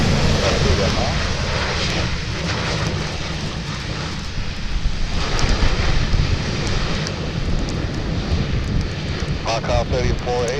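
A jet airliner at Montreal Trudeau Airport in bad weather roars steadily as it takes off, a loud, broad engine rumble that swells and holds throughout, with radio chatter from air traffic control running beneath it.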